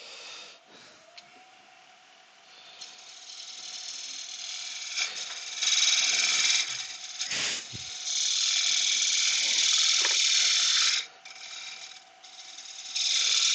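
Chisel making a fine paring cut in wood, its bevel burnishing the surface: a close, steady scraping hiss that swells in longer strokes, with a few small knocks.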